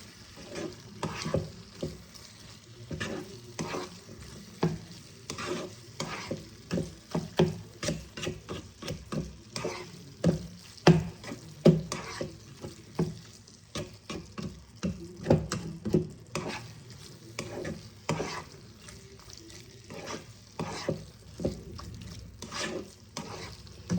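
Cabbage curry with ghee is stirred in a frying pan, a spatula scraping and tapping in an uneven, busy rhythm over a soft sizzle, close and fairly quiet throughout.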